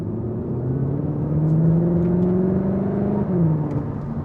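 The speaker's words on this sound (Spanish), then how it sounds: "el sonido del escape cuando vamos en modo Cupra, con esa simulación en los altavoces" An artificial sporty exhaust note played through the speakers of a 2025 Cupra León in Cupra mode hums inside the car, a steady droning tone that climbs in pitch under full throttle, then dips briefly.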